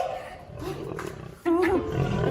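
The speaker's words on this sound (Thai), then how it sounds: "ราชสีเริ่มที่จะคำรามเสียงดังเรื่อย ๆ" Lion roaring loudly in a cartoon story, a deep rough roar starting midway with a rising and falling growl, near and loud, with narration-like voice tones before it.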